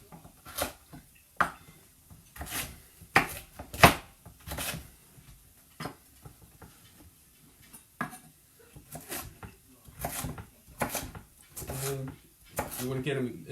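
A knife chops through potato pieces on a cutting board in a kitchen while vegetable curry is prepared, giving a run of sharp, uneven thuds up close, with a person talking between the cuts.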